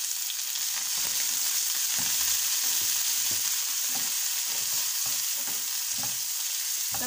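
Tadka tempering with Kashmiri red chilli and fresh coriander for Kashmiri-style chicken haleem: continuous hot-oil sizzle and frying hiss, close and steady, with stirring clicks and scrapes at an irregular pace.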